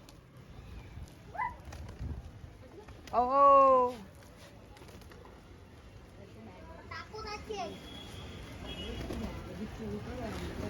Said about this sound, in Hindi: देख सकते हो सारे कबूतर उड़ रहे हैं